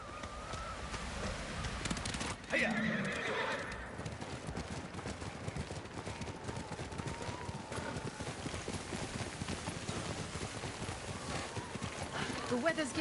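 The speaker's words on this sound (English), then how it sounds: "I guess that wasn't my horse." A horse's hooves clip-clop and the animal neighs in a snowy video game scene, with the footsteps steady and close under game music and ambient wind, and characters speak over them.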